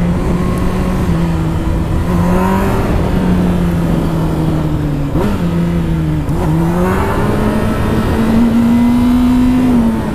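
A car engine with its exhaust removed revs loudly and continuously, its rough, droning note rising and falling between throttle blips, close by with no talking.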